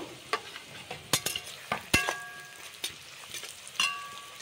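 Chili chicken with chopped green chillies frying in a pan, with sharp clanks of a spatula against the metal at uneven intervals over a soft background sizzle, close and unaccompanied by talk.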